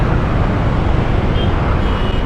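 Dense road traffic in Sampaloc, Manila forms a loud, steady wash of engines and tire noise. The roar is continuous, with no distinct vehicle standing out and no pauses.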